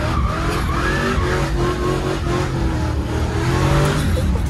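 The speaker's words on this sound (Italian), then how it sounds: "Abbiamo questa Corvette C3 metà anni 70" A mid-1970s Corvette C3 drives on a road, its engine a steady, loud, close rumble with harmonic drone and some tire noise throughout, no voices.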